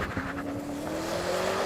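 A new BMW M5 launches hard from a standstill, its engine note climbing steadily and strongly close by, with a hint of tyre noise and no talking.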